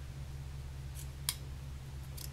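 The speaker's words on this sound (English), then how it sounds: "So now what we're gonna do is we're gonna trim the corners." A few quick, soft snips of scissors trimming fabric corners near a low steady hum, spaced irregularly, with no one speaking.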